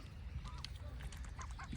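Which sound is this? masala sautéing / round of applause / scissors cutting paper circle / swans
swans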